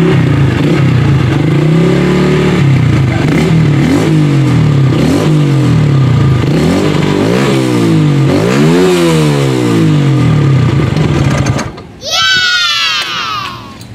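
Modified Honda Blade 125cc motorcycle engine revving repeatedly, a loud, rough exhaust rising and falling in pitch with several throttle blips, close by, ending with a brief high-pitched squeal or shout.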